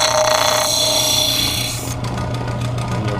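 A skinning knife edge is being polished after sharpening, giving a steady close rasping rub that runs without a break, with fine abrasive grinding texture throughout and no talking.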